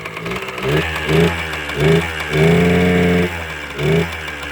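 A Kawasaki KM100 motorcycle engine flooded with oil bogs as the throttle is blipped, several labored, droning rises and falls over a steady idle, close and loud with no talk.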